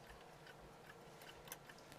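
An old clock ticks faintly and steadily, its soft regular clicks set against a low background hum with no one speaking.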